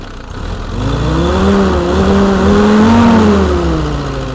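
A turbocharged Jeep engine running near the microphone, loud steady idle with a rising and falling whine as the load comes up and eases off, then settles back.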